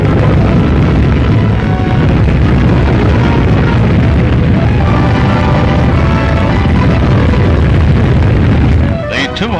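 A French nuclear weapon test explosion in old archive film roars as a sustained, heavy, distorted rumble filling the whole stretch, loud and unbroken until a brief drop at the very end.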